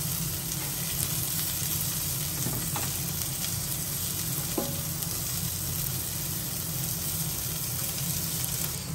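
Onions and spices for hill-style Maggi sizzle steadily in a pan, a dense, continuous frying hiss close up, with a few faint clinks of stirring and no talking.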